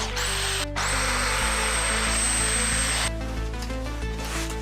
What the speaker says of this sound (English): Let's remove all the rust with a wire brush.